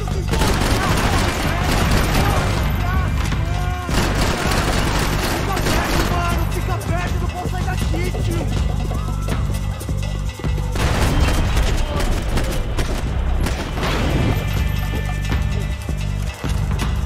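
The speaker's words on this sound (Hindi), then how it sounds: "हर तरफ से गोलियां।" Gunfire in the shooter game Max Payne 3 comes as dense, loud bursts of shots over a constant roar of music and action, with occasional heavy booms and a voice talking in places.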